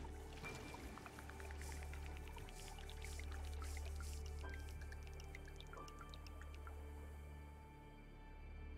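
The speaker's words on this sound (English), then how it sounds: "Start off by filling up this river." Water flows to fill a river in the video game Terra Nil, a steady watery pour with light drips, layered with bright chiming game tones, heard alone with no talk.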